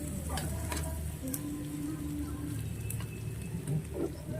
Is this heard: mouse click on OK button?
no